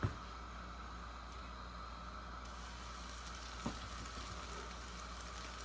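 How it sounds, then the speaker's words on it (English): Steady, soft crackling and hissing of bread frying in hot oil, continuous throughout with an occasional faint clink. "that bread is just sizzling in there"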